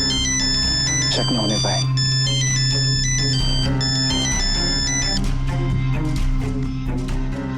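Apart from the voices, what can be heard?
phone ringing, call from Mansi's mother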